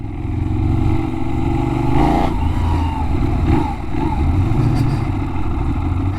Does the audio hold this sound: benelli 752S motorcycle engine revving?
yes